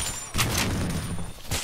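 Rifle shots from an M700 in the video game Blockade 3D land as a few sharp, loud broadband cracks spaced across a brief stretch, with other game noise between them.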